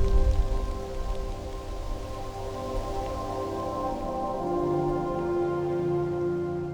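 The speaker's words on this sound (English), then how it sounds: "a light morning rain" Light morning rain patters steadily on surfaces outdoors at sunrise, a soft continuous wash of drops with no voices, even and moderately close throughout.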